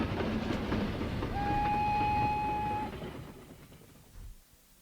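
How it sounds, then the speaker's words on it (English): A train rumbles past steadily with a long, sustained whistle tone over the rolling noise, then fades away into quiet. "There's the train. That's not stopping."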